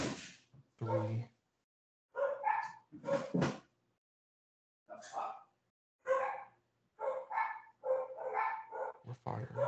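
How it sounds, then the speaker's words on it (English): Dogs barking indoors in a series of short bursts and yips spread across the stretch, fairly close and loud, alternating with gaps of silence. "Plus some dogs barking."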